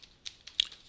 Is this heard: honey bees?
no